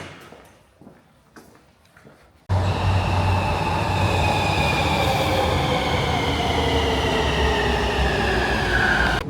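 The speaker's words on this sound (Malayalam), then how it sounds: "ഇവിടെ ഇപ്പോൾ ഒരു ട്രെയിൻ വന്നിട്ടുണ്ട്." A metro train at a station: after a quieter opening with faint sounds, a loud, continuous rail rumble with rising wheel squeal fills the rest of the clip.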